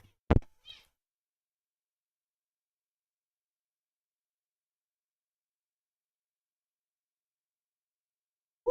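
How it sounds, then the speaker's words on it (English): A house cat gives one short, sharp meow close to the microphone, then the clip falls almost silent before a faint final sound at the very end. "my cat is being so loud recently"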